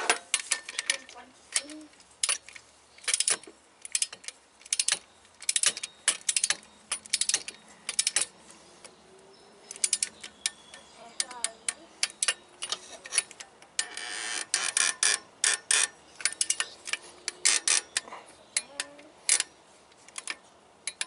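A torque wrench tightens the center head gasket bolts on a Subaru 2.5 engine to 25 foot-pounds, giving dense bursts of quick ratcheting clicks, close and fairly loud, with short pauses between runs.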